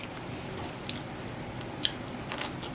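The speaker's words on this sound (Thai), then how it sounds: "เวลาเราเคี้ยวมันจะกรุบกรุบกรอบกรอบนะคะ" Someone chews crunchy yet chewy seafood up close, with soft, moist mouth sounds and a few sharper crisp bites spread through the short stretch.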